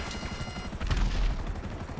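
Gunfire in Grand Theft Auto V during a GunRunning half-track mission: a dense, continuous rattle of rapid shots that swells briefly in the middle, with no talk over it.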